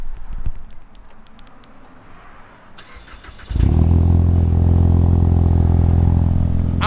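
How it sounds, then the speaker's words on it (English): A quiet moment, then an EcoBoost Ford Mustang engine cranks on a cold start and roars to life, settling into a loud, deep, rumbling idle close by. "I think my car sounds pretty beastly with a cold start"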